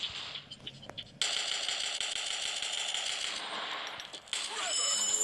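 Rapid gunfire from an online shooting video game, dense crackling bursts running almost continuously at moderate loudness with brief pauses, alongside game sound effects.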